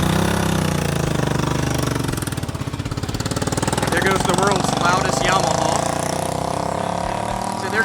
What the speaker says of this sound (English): That guy may or may not have cut the muffler off his Yamaha.